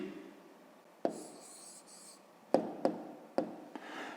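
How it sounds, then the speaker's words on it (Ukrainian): Hand writing out a math answer on paper, quiet pen scratching with a few sharp taps and strokes in a silent room, close and faint, no talking. "Ну, а тепер записуємо відповідь."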